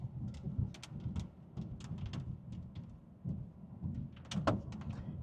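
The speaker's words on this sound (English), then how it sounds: "Here come those first few thunks." Hail beginning to fall during a Midwest tornado-outbreak thunderstorm, with scattered irregular thunks and cracks of stones striking over a steady low rumble of wind and rain, some impacts close and sharp.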